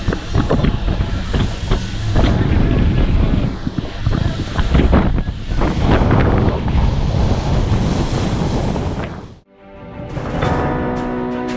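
A small boat rides on the open sea off Hurghada, Egypt. Loud, constant wind buffets the microphone over rushing waves and spray, and the roar briefly drops near the end before a steadier hiss resumes.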